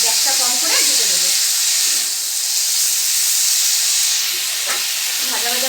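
Pumpkin greens frying in a pan, a steady steamy hiss and sizzle running throughout, with a few faint utensil clinks and stirring scrapes coming through.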